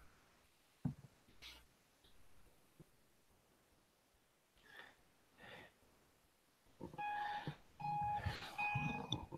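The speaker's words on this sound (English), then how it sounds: "What's with your alarm going off?" A photo booth camera alarm goes off indoors, sounding a steady series of high electronic beeps that stay fairly quiet. Rustling and soft handling noises run underneath.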